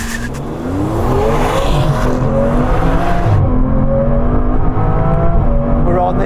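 Aston Martin V12 Vanquish accelerating hard, a loud continuous engine roar climbing steadily in pitch through the gears, heard close from inside the car.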